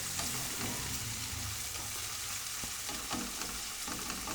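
Minced meat sizzles in a pan while being stirred continuously, a dense close hiss with scraping and clinks from the stirring.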